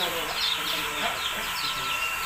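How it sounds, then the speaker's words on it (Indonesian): Many small birds chirp and tweet at once at a bird market in Sumenep, a dense, high twittering chorus filling the space close by. "Nah kalau yang ini rata-rata burung kecil semua."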